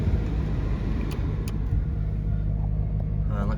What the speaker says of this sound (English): Car starts straight away.